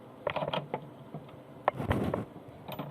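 A Singer 6680 sewing machine runs while stitching, giving quick irregular mechanical ticking and rattling with a brief busier stretch, heard close and fairly quiet with no talk.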